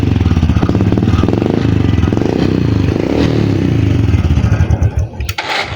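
A Honda XRM 125 Fi motorcycle idles loud and close with a rapid clattering engine pulse, rising into revs before the sound cuts off sharply near the end.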